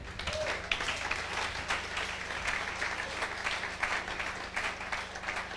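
A church congregation applauds in praise of God, steady dense clapping at moderate distance that carries on throughout alongside low rumbling room noise.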